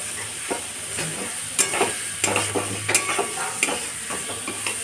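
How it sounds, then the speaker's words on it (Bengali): Garlic and onion fry in a pan for chicken curry, a steady sizzle with stirring clicks and scrapes recurring every half second or so, close and alone without voices. "রসুন দিলাম, রসুনের উপর পেঁয়াজ দিলাম"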